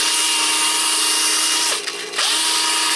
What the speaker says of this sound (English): I've been just sanding it. This is just dry sandpaper.